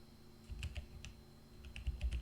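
Fingers tap a computer keyboard in short bursts of quick, light clicks separated by brief pauses, close and fairly quiet with no voices.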